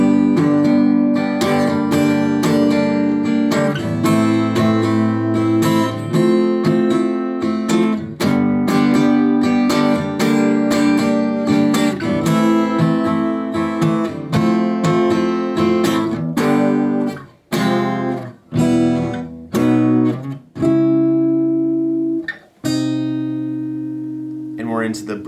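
Guitar plays the chorus of a song, close and full, with steady rhythmic chord strumming that thins into sparser, separated strokes near the end.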